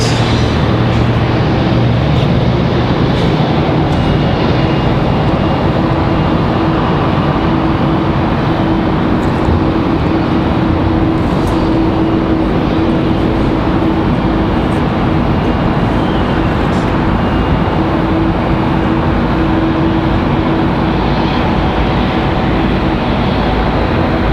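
American 174 Heavy, a large jet airliner, departs Raleigh-Durham airport with a steady broadband engine roar that holds loud and continuous throughout, a low hum running beneath the rush.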